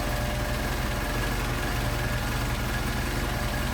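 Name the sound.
Mercedes 190SL engine idling on Solex 44PHH carburetors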